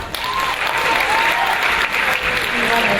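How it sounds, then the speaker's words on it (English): A pageant crowd at Miss World Canada claps for a top 16 contestant, a brief bright burst of applause with a few cheers or calls rising through it. "Give her a round of applause."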